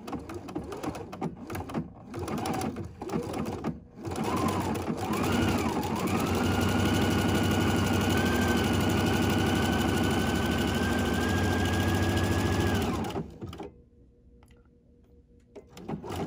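A sewing machine stitches fabric for a pin cushion, running fast and steady for about ten seconds with a dense mechanical whir. Shorter starts and stops come before it, then it halts and leaves near silence, all heard close up with no voices.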